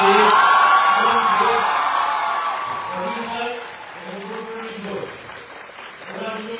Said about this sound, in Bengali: একটা খুব জোরে হাততালি দরকার অভিনেতা